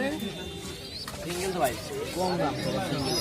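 Pigeons coo softly in the background at a rural pigeon market in Singair, Bangladesh, mostly beneath close conversation between people.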